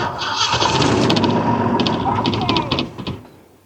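A Jeep J-10 FSJ truck engine cranks and catches, a loud close rumbling start with rapid sputtering bursts that settle toward idle before fading, with voices nearby.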